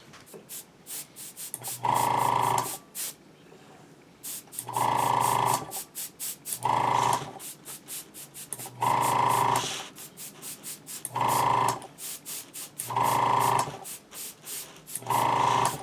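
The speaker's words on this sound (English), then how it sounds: "I'm going to airbrush that subtle gray color" Airbrush spraying subtle gray paint onto a studio scale model, short hissing bursts of air repeating about every two seconds with quiet pauses between, close and fairly loud, no talk.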